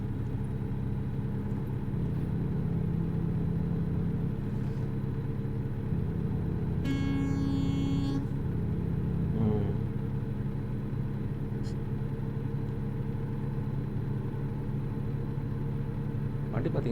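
A truck engine drones steadily in the video game American Truck Simulator while the rig, pulling a reefer trailer, drives on, with a brief higher whine rising over the constant rumble.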